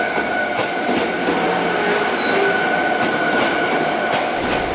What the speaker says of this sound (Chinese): 轮轴飞快的转动，南来北往的运输正暖身着